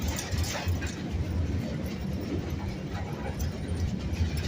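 Scenic railroad train rolling slowly into a station, a low rumbling with soft irregular clanks and knocks of the cars, steady and moderately quiet, no talk heard.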